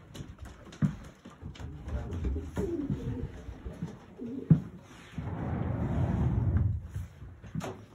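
Domestic racing pigeons in a breeder's loft cooing, several soft throaty coos rising and falling at close range, with wing flutters and shuffling and a swelling burst of calls near the end; no clear talk.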